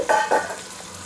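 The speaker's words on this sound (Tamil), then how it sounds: "இப்போ நம்ம வந்து வெங்காயம் சேர்த்தாச்சு" Onions frying in a pan for South Indian Vellore biryani, with two quick stirring scrapes over a soft sizzle that then settles.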